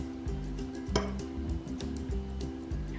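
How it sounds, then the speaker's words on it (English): A spoon stirring tea in a cup gives a few light, scattered clinks and taps, one sharper near the start, over a steady background hum. "what I do is I sort of stir it a little bit"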